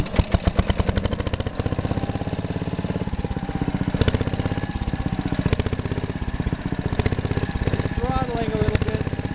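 A 1965 Simplicity Landlord 101 lawn tractor engine runs close by with a rapid, steady chugging pulse that stays loud throughout, a slight change in pitch hinting at throttle adjustment near the end.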